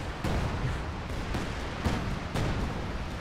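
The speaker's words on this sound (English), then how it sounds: "You just see all that artillery coming in" Artillery barrage in the World War II strategy game Company of Heroes 2, with heavy booming impacts landing in quick succession over a loud continuous rumble.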